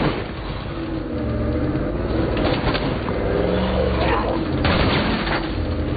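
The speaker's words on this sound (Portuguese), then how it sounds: "Eles estão atirando em mim já lá." Dense gunfire and explosive booms in the video game State of Decay 2, a continuous loud barrage during a firefight around a car, with no clear talk over it.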